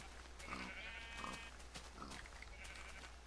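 Sheep bleating in the video game Minecraft, a few short wavering bleats spaced apart, faint and alone over a quiet background.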